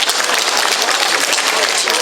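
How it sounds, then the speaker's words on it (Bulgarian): A crowd applauding at a Teacher of the Year awards ceremony in Dimitrovgrad, dense steady clapping filling the space, loud and close, with no talking over it. "Аплодисменти за него."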